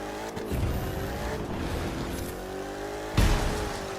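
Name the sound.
monster truck engine revving in video game The Crew 2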